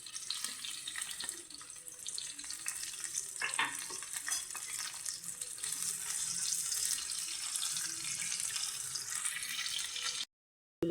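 Onions with green and dried red chillies fry in hot oil, giving a close, steady sizzle and crackle with occasional stirring scrapes and no talk.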